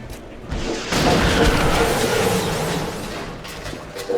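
A rocket launches in the XCOM: Enemy Unknown strategy game, a loud sustained roaring blast that swells after a brief lead-in and rumbles on for a few seconds before tapering off.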